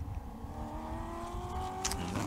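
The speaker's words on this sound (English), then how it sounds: "We're looking at the car in the pit lane now at the moment is the number 25." A Porsche race car, number 25, runs in the pit lane during an endurance race at Hampton Downs, giving off a steady engine drone with a rising pitch and a brief sharper burst near the end.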